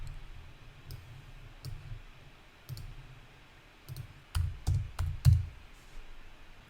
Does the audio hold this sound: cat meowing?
no